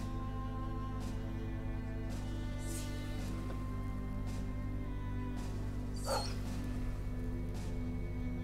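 Dog yelps and whimpers in the tactical game Battle Brothers, several short bursts over a steady droning music bed, with no talking.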